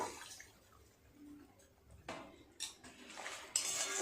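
Water poured into a pan with slit green chillies for fish curry, faint splashing and pouring with a few clinks of cookware, growing louder toward the end.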